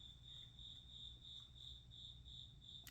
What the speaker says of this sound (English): there's a big cricket in my basement